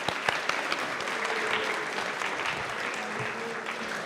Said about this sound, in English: So please give Citadel a round of applause and welcome them to the stage.